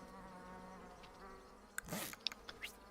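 Faint steady insect buzzing of bees in the Hive Time video game, a low droning hum under scattered soft game clicks and brief chirps, with no talk.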